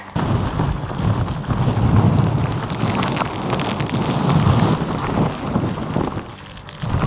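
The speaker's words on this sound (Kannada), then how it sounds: "ಇಲ್ಲ ಮಳೆ ಜೋರಾಗ್ತದೆ" Heavy monsoon rain pours down at a viewpoint in the Western Ghats near Charmadi and Chikmagalur, a loud, dense and continuous roar with surges in intensity.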